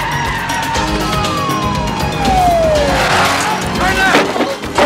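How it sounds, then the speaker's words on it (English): A car drives roughly over a bumpy sidewalk, its engine and tyre noise steady and near, with a siren-like tone sliding downward midway and rattling jolts toward the end, under raised voices. "These streets are bumpy. You're driving on the sidewalk."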